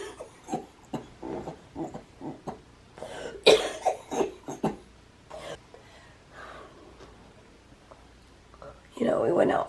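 A girl with a lung condition coughs in a run of harsh, close bursts, followed by quieter breathy sounds and then a louder stretch of noise near the end.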